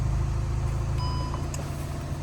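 The rear parking sensor of a 2013 Audi A3 Cabriolet 2.0 TDI S-Tronic gives a single short, thin beep over a steady low engine hum.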